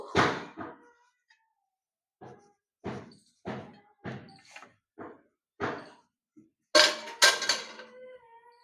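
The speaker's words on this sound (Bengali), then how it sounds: "বেলনি দিয়ে বেলে দিচ্ছি" A wooden rolling pin rolls out dough for round khaja, making a series of about ten separate knocking thuds on the board, close and fairly loud, with short pauses between strokes.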